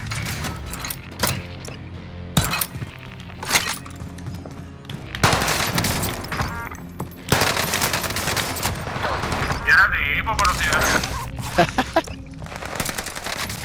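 Welgun submachine gun fire in Call of Duty: Warzone, several fast, rattling bursts separated by short gaps, loud and close, with mechanical handling clicks and a voice talking between volleys.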